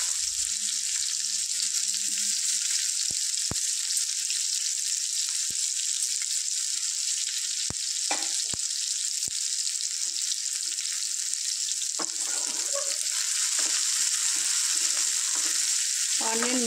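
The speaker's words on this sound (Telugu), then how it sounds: "ఆనియన్ మిర్చి ఫ్రై చేసుకుందాం." Onions and green chillies fry in hot oil with a steady, close sizzle that holds for the whole stretch, broken by a few sharp clicks and light stirring scrapes.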